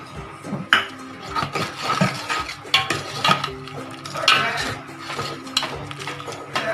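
A spoon scrapes and clinks against a metal pot in irregular strokes, stirring thick vatha kulambu (tamarind curry) with a faint bubbling sizzle underneath.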